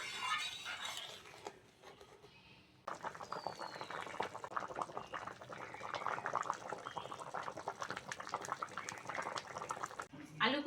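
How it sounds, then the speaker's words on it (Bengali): A thin village-style prawn curry broth with taro and potato boils steadily in a pot, giving a continuous dense bubbling that runs close and fairly loud after a brief quieter start. "ঝোল ভালোভাবে ফুটে গেছে"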